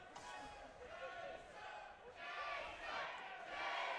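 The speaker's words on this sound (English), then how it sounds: "chants of Jason echo through the crowd of the hometown kid" A boxing arena crowd chants a hometown fighter's name in a steady, loud, rhythmic roar that swells toward the end, with a commentator's voice faintly mixed in underneath.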